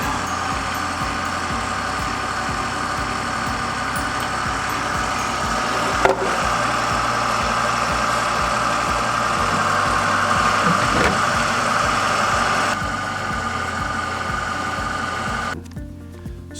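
A one-man polyurea spray pump runs steadily while being flushed through solvent buckets during cleaning, producing a loud continuous mechanical drone with a brief knock midway and a drop in level near the end.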